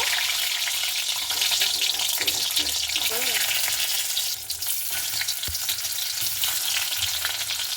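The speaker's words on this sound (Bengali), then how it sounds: "তেলটা কিন্তু খুব ভালো মতো করে গরম হয়ে গেছে আর ডিমগুলোকে আমি এইভাবে হালকা করে ভেজে নেব" Eggs frying in well-heated oil in a wok give off a steady, loud sizzle that runs unbroken through the whole stretch, with a few faint clinks partway through.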